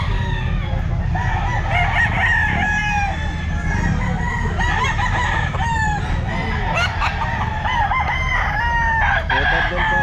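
A sweater gamefowl rooster about 11 months old crows loudly and repeatedly at a busy outdoor pet market, with other roosters crowing and clucking around it over a constant crowd hum.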